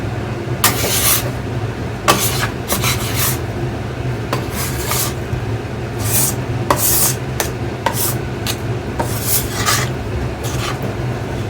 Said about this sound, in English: I like to use a bench scraper and a spatula